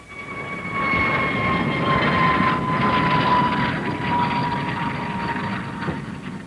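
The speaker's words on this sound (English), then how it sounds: "Here's a high-speed research turbojet aircraft." A high-speed research turbojet aircraft flies past, giving a steady, loud jet roar with a sustained high whine running through it for several seconds. No one speaks over it.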